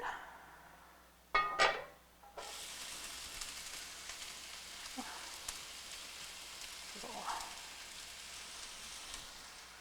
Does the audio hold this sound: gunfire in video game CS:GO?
no